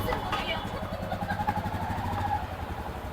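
A Royal Enfield motorcycle engine thumps steadily along at riding speed, close and continuous, with a person talking over the rumble.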